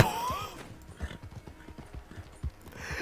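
A horse in the video game Red Dead Redemption gives a short whinny at the start, then its hooves clip-clop in a steady trotting rhythm, close and moderately loud.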